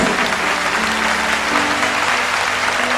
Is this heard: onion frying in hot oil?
no